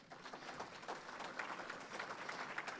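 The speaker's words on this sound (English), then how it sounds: "Round of applause." Audience at a track and field Hall of Fame induction ceremony claps steadily, a fairly faint, even wash of applause heard from a distance.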